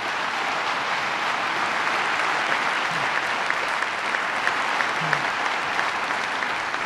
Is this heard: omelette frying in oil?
no